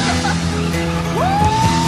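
Go-karts racing around a track, engines droning steadily with a rising whine as one kart accelerates past, a continuous close motor hum throughout.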